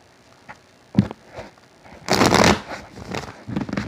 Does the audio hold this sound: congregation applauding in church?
no